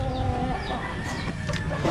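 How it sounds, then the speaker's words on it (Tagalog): Several chickens cluck busily and continuously at close range, with occasional louder calls rising over the flock's steady chatter. "kasi tutulungan ko pa si Jimmer magpakain sa ibang mga manok"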